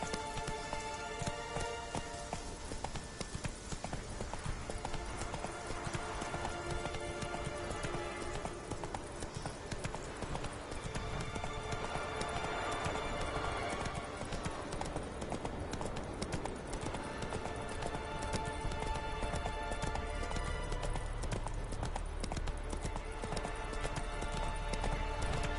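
Roach, a horse in The Witcher 3 on PS5, gallops with a steady, rapid clip-clop of hooves over a constant rain-like hiss, both close and fairly even throughout.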